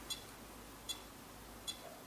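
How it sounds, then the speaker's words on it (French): A failing external hard drive beeps three times at a steady, slow interval, short thin tones over a quiet hiss with no talking. "Ce signal dirait que votre disque dur est mort"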